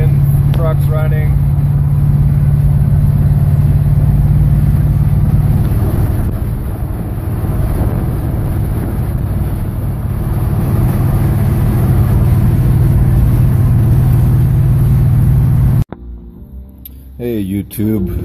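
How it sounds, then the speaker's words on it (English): Chevy C10 truck engine running steadily after a fuel system bypass, a continuous low rumble heard from inside the cab for about sixteen seconds, then cutting to a quieter scene. "As you can see, the fuel's working. It's getting to the engine. Truck's running."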